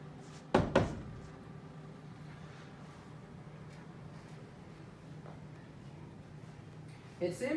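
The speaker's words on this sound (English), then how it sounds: "I'm just gonna close the door." A door swings shut with a close double knock of impact near the start, then quiet room tone with faint shuffling, and a softer rattle at the end.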